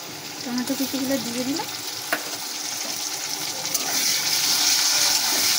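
Steady hiss of chopped tomatoes and ginger-garlic paste frying in a pan, with a brief stirring clatter and a short tonal whine near the start, close and fairly loud.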